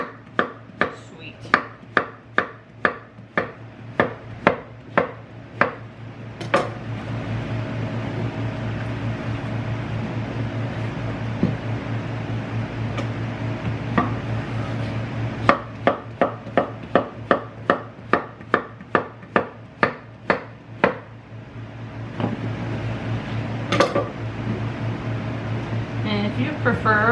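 A large harvested vegetable is chopped into chunks on a cutting board, with bursts of sharp, evenly spaced knife thumps separated by stretches of a steady low background hum.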